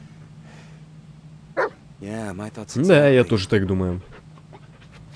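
Dog barking and panting in the Blair Witch video game, heard in a short burst of yips and a sustained harmonic whine-bark mid-clip over a low game hum, with someone talking.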